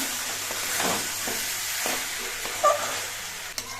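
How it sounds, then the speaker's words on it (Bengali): Banana stem curry with ground nuts and grated coconut stirred in a pan: soft scraping strokes and a steady gentle sizzle, close and fairly quiet, with a couple of sharper clinks near the end. "এবার সব কিছুতে নেড়ে তেড়ে মিশিয়ে নিচ্ছি"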